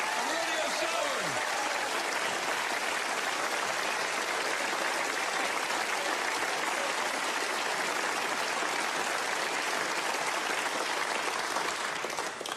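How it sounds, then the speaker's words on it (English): A crowd at the 2017 English Open snooker final applauds in a long, dense, sustained wash of clapping that stays even throughout, with a brief voice audible near the start. "let's have a round of applause for both players after a wonderful final"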